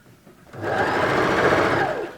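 A sewing machine runs a steady, continuous stitching burst along the side seam of a nurses' scrubs top, starting after a brief quiet lead-in and holding loud and close for under two seconds.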